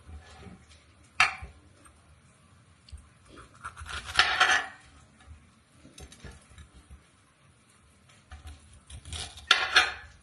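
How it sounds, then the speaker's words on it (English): A knife cuts peppers on a board in a home kitchen, with scattered knocks and scraping bursts of chopping spread unevenly over several seconds, close up, no talking. "I'm going to cut up some peppers. to go into the Rasta Pasta."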